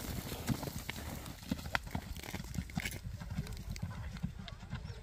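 Horse hooves clip-clop with a busy, irregular rhythm at a horse market in Özgön, Kyrgyzstan, where large horses are shown, under a constant layer of talk and crowd noise.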